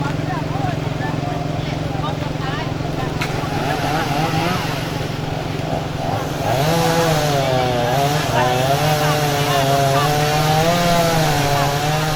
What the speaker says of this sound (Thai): กำลังเร่งใช้ เครื่องยนต์นะคะ ตัดกิ่งไม้ที่ ล้มทับรถยนต์นะคะ